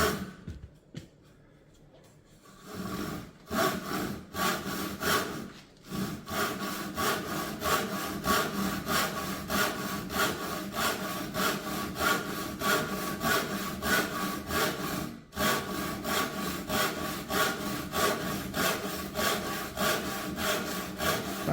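A hand saw cuts through wood in steady, even push-and-pull strokes, pulled firmly and pushed gently, loud and close; a quiet pause opens before the strokes begin, with another brief break midway.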